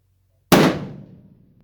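A single sharp rifle shot from a .300 Weatherby on a 1,000-yard long-range range cracks out loud and close after a moment of near silence, then fades over about a second.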